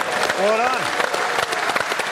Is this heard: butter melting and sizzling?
no